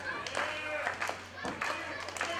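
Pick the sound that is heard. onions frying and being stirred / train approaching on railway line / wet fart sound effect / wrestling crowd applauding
wrestling crowd applauding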